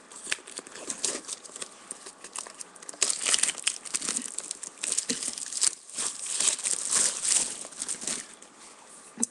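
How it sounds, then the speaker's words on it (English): Cellophane wrapping is torn and peeled off a hardback book close to the mic, giving continuous crackly crinkling and tearing in irregular bursts that grow louder in the second half, with no talking. "It's in a cellophane wrapper."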